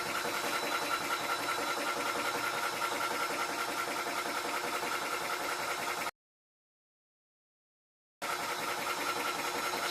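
A Tuxing 4500 psi PCP air gun compressor runs with a steady, loud mechanical drone, cuts out for about two seconds, then starts back up and continues.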